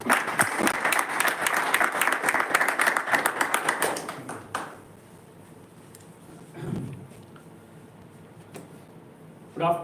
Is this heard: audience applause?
yes